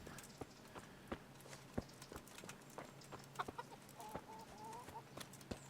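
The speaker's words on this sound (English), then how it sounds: "Chicken, chicken, chicken, chicken." Chickens clucking in the medieval video game Kingdom Come Deliverance, with short irregular clucks over a steady village background and some sharp clip-clop knocks, all at moderate distance.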